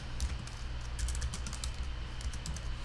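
Rapid, steady clicking of keys on a computer keyboard as a search is entered, close and continuous with small irregular bursts, no voices.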